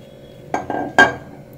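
A spoon clinks against a glass while chilled milk is mixed for sugar-free cold coffee, giving three short, bright, close knocks with no talk.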